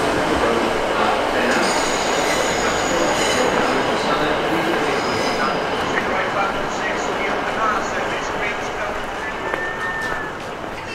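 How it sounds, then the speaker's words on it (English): A loud train rumbles past overhead at Cardiff Central station with continuous roaring and a faint wheel squeal, steady throughout. "See another train going over?"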